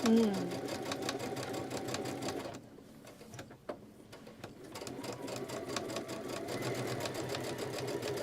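Sewing machine stitching pinned quilt pieces, a steady rapid mechanical whir that pauses briefly midway, then resumes at a close, even pace.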